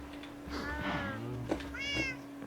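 Pet cat in the video game Minecraft meowing twice in quick succession, clear and close, with a steady low hum underneath and no talking.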